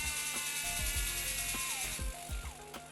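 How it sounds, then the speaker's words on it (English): A small electric motor whirs and clicks as it turns the steering head of a Bruder Ausa RC dumper conversion, giving close, quiet gear ratcheting with irregular mechanical ticks and short whining pitch sweeps. "I can hear the motor turning, so let's turn the head"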